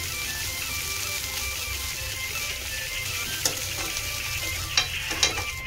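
Poha stirred and mixed in a frying pan, with a steady sizzle of frying under repeated scraping and stirring strokes, a few sharper clinks of the utensil against the pan, close and alone without talk.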